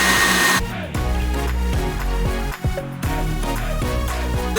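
An electric mixer whirs steadily as it whips Pastry Pride whipped topping in a bowl, a loud continuous motor drone with brief dips where the beaters shift, and no talking.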